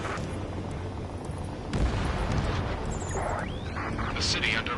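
Gunfire and roaring jets echo through city streets in an Ace Combat 7 cutscene, a dense continuous rumble of booms and bursts with a rising jet sweep later on, loud throughout.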